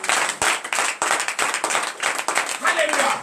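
Congregation clapping in rhythm during a morning prayer service at a church in Benin, brisk repeated hand claps filling the room with voices mixed in throughout.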